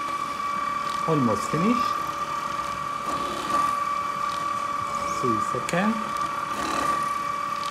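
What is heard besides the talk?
Gako Unguator mixing machine running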